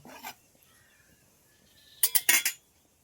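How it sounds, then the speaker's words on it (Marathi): A utensil scrapes and clinks against a pan while heated spice masala with red chilli and black pepper is stirred in oil, with one short clatter early on and a quick cluster of sharp metallic clinks near the end, otherwise quiet. "आता हलवून घेऊया जरा अशा प्रकारे आपला मसाला गरम झालेला आहे पूर्ण"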